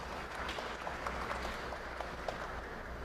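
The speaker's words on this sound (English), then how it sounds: "A round of applause, ladies and gentlemen." Audience applause at the Presentation College prize-giving ceremony, sustained steady clapping from a crowd heard from within the hall, with no voices over it.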